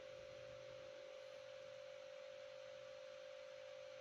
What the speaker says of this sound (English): You can hear them whirring a bit, the motors.